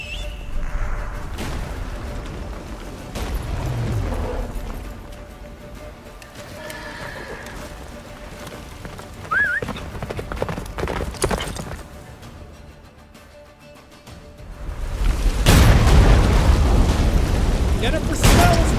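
Galloping horse hooves in The Witcher 3 video game, a rhythmic clip-clop under dramatic music and effects, with a whinny and a heavy boom near the end, and character voices calling out.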